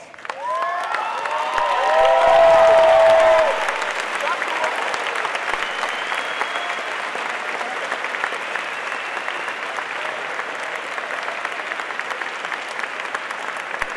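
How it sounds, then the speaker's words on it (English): At a Husson University commencement ceremony, graduating students give their faculty a long round of applause, a broad steady clapping from a large crowd with a brief swell of cheering early on, continuing evenly for many seconds. "please stand and show your appreciation to our faculty by giving them a round of applause"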